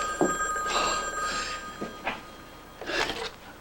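An old-style telephone bell rings in bursts, a few short trills spaced apart, moderately loud in a quiet room with no talking.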